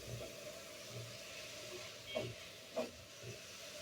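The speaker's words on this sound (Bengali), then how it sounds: "এখন আমি নেড়ে চেড়ে কিছুক্ষণ ভেজে নিব" Winter vegetables with onion, chilli, tomato and salt stir-fried in a pan, a faint, low sizzle with a soft hiss and two brief scraping stirs near the end.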